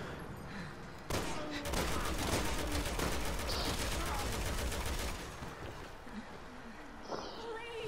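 Gunfire in Resident Evil 6 comes as a dense, rapid burst of shots that goes on for several seconds, loud and close, then drops to a lower rumble with scattered game effects.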